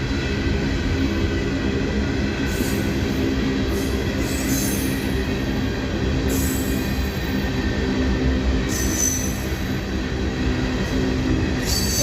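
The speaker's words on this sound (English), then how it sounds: "End of the train." A long freight train rolls past close by in a steady, loud rumble of wagons, with rhythmic wheel clatter and intermittent high metallic squeals from the wheels.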